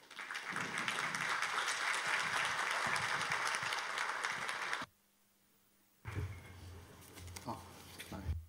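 A conference audience at a UNIDO forum gives warm applause as someone takes the podium. The dense clapping lasts about five seconds and cuts off abruptly, followed by a brief silence and then room noise with a voice.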